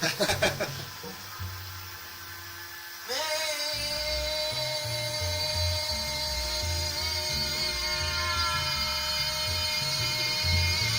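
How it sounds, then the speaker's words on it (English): A vacuum suction system holding a lacquer disc to the turntable of a record-cutting lathe kicks on with a steady, loud hiss and hum after a few seconds of quieter machinery, then runs continuously with a low pulsing rumble underneath. "So there's a suction on the turntable."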